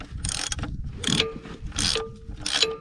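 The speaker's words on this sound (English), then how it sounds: "Underneath 17 mil socket. Let's crack this one loose." Three ratchet bursts from a 17 mm socket breaking loose a New Holland TC45 tractor's oil drain plug, each a rapid clicking run of pawl teeth, close up and crisp with short pauses between.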